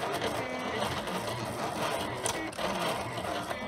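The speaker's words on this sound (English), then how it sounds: "the machine got done sketching everything out" A Silhouette Cameo cutting machine draws with a pen on cardstock, a steady mechanical whir and buzz of the moving carriage running almost without a break for nearly four seconds, loud and close with brief pauses as it changes direction.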